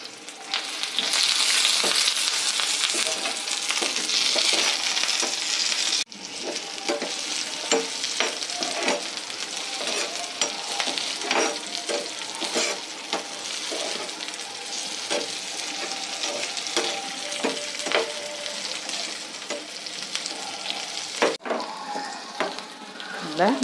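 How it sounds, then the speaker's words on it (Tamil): Onions and curry leaves sizzle steadily in a hot pan, with intermittent scraping and clinking of a spoon stirring throughout. "நல்ல வெங்காயம் வதங்கிடுச்சு."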